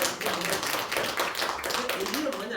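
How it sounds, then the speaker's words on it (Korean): Congregation clapping during a Christmas church service, a short burst of mixed claps from a room of people with voices and murmuring mingled in. "우리 박수 한번 치겠습니다"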